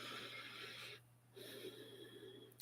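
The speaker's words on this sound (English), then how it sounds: "let's take a deep breath" A long, close breath drawn in and let out, airy and hissing, with a brief pause midway and a soft low hum underneath.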